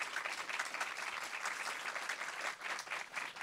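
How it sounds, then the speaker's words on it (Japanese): A film audience applauds Cannes Film Festival director Thierry Frémaux as he is welcomed onstage, a dense, steady wash of many hands clapping that fills the whole stretch with slight swells and dips. "皆様 大きな拍手でお迎えください"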